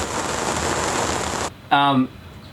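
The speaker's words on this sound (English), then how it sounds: "It's bucketing down again." Heavy tropical rain pours down steadily around a yacht in Trinidad, a dense close hiss that stops abruptly, followed by a brief tonal sound.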